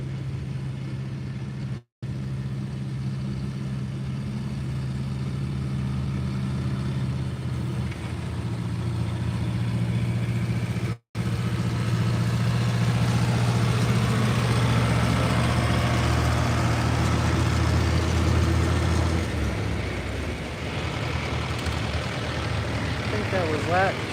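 Pulling tractor engine at a tractor pull, a loud steady low roar that holds for most of the stretch, briefly cut twice, then shifts and fades near the end.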